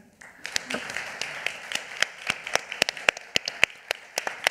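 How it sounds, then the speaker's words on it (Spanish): An audience breaks into applause after a guest is introduced at a talk, a run of distinct sharp claps that starts sparse and builds into a steady, moderately close round. "por favor, un aplauso para ella"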